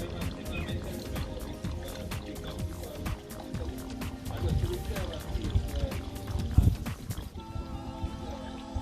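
Fresh water poured from a bottle to rinse BMW 528i car parts during a DIY oil change: a steady splashing, trickling flow that runs for several seconds, with voices underneath.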